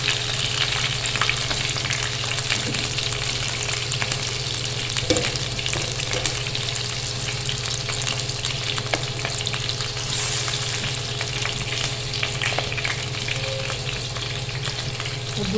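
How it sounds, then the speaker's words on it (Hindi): Gosht, meat for aloo gosht, fries in a pan with a steady, dense sizzle and crackle throughout, close and continuous, with occasional stirring scrapes and no talking. "इसको फ्राई कर लूँ, फिर आपको ये देखिए कि गोश्त फ्राई हो गया।"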